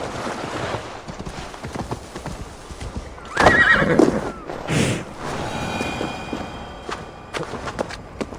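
A horse whinnies in Assassin's Creed Valhalla, set in Viking-age Jorvik: a loud neigh rises over clip-clopping hooves and ambient game sound, followed by a second, shorter snort-like call.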